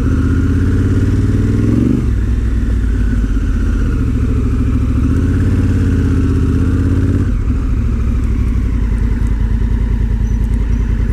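A Honda Africa Twin motorcycle rides offroad, its engine droning loudly and continuously close by with rising and falling pitch as the throttle shifts, over a rough clattering rumble.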